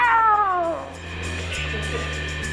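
A single cat lets out a loud, drawn-out meow with a falling pitch, followed by quieter background hum and faint noise.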